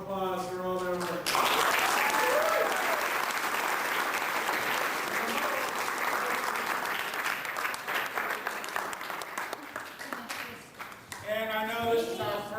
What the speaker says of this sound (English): let's give them another round of applause for all their work